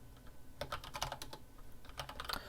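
Computer keyboard typing commands into a terminal, with quick irregular clusters of light key clicks close by and a brief pause midway, no voices.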